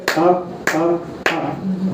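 Three sharp hand claps, evenly spaced about half a second apart, during a Gaudiya devotional storytelling session, each followed by a voice speaking.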